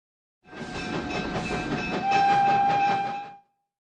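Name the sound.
train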